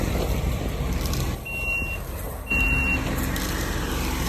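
Kubota SVL72 track loader engine rumbling steadily at a land-clearing site, with two distinct reversing beeps sounding clearly over the drone.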